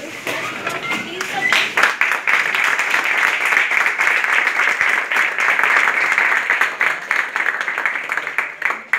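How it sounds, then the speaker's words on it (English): A crowd of students at a workshop gives a standing ovation, sustained dense applause and clapping that stays loud and steady throughout, with some voices mixed into the clatter. "I request all the students present here to please give a standing ovation to Progress Plus."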